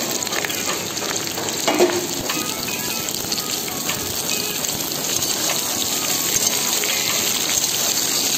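Mustard chips for bamboo shoot pickle are dropped into hot oil, setting off a loud, dense, continuous frying hiss that holds steady close by.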